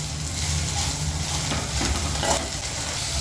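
Ginger paste frying in a hot pan for an okra fry, a steady close sizzle with faint stirring scrapes throughout.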